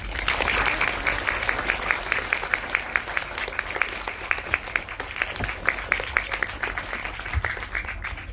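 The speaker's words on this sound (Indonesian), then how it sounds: "Ya, tepuk tangan dong." Applause from schoolchildren at a group movie screening in a Transmart cinema, a dense steady patter of many hands clapping for about eight seconds with a few sharper claps standing out.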